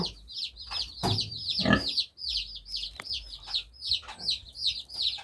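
Chickens cluck and chirp in repeated short bursts close by, with a few louder squawks and rustling in between.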